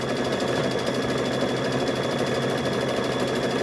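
A sewing machine stitches close to the edge of a fabric bowl cover, giving a steady, close, unbroken motor whir with a fine rapid needle chatter throughout.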